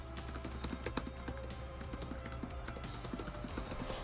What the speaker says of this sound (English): Let's talk about the keyboard itself, because the typing experience does matter.